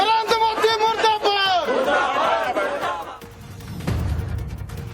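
Congress party workers protesting the farm bill in Raipur chant slogans together in a loud, rhythmic crowd, the massed voices rising and swelling close by before giving way to rougher crowd noise.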